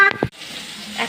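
Long strips of ridge gourd fry in a pan: a couple of utensil clinks and scrapes from stirring, then a steady close sizzling hiss, with no talking.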